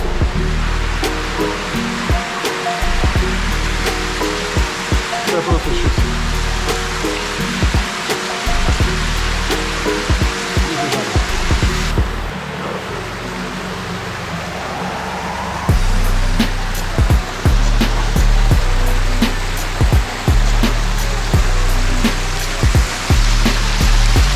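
A waterfall pours into a large egg-shaped collector, producing a loud, continuous roar of rushing water with repeated low thumps and splashes, close and enveloping throughout.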